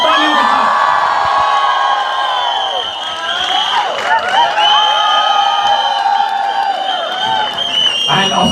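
Stage-show audience breaking into loud applause with whoops and cheers, a dense continuous crowd roar mixed with shouting voices and some speech over it.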